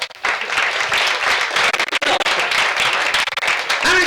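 A comedy club audience breaks into loud, sustained applause and cheering in response to a stand-up comedian, the clapping building quickly and filling the room.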